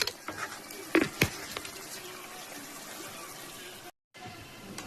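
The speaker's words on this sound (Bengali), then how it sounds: "এবার ঝোলটা ফুটে গেছে" Curry broth seasoned with turmeric, salt and a little sugar simmers in a pot, giving a soft, steady bubbling hiss with a few louder pops near the start and a brief drop to silence partway through.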